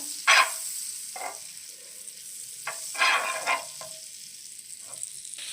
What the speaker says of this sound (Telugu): బటర్ వేసిన బటర్ ఇందులో అవన్నీ ఫ్రై చేసుకుంటా